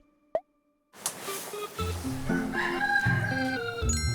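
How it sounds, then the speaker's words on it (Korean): A rooster crows loudly and clearly outdoors, a single drawn-out call following a brief sharp click and a moment of silence. "오, 닭소리."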